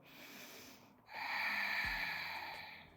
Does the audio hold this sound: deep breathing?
yes